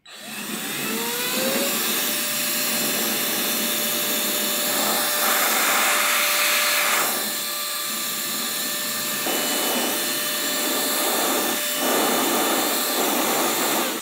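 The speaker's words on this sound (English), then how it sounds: "Let me blow some air into the helmet." An air blower pushes air into a 3D-printed helmet fitted with a DIY air scoop, a loud continuous whooshing roar with a faint rising whine, shifting slightly in tone as the airflow changes.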